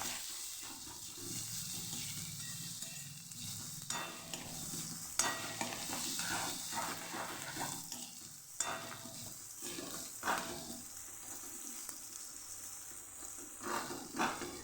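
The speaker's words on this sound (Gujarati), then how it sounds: "લસણની કચાશ દૂર થાય ત્યાં સુધી આપણે આને સાતળવાનું" Garlic, ginger, green chili and onion sautéing in a pan for a Kathiyawadi dahi potato curry, a continuous close sizzle broken by repeated stirring scrapes, with water-like hiss in the background and no talking.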